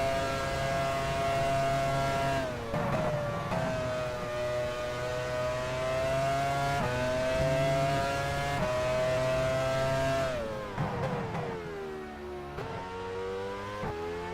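A Formula 1 race car from F1 Challenge 99-02 at the 1999 British Grand Prix drones at high revs, its engine note holding steady, then dipping and climbing through several shifts, loud and alone.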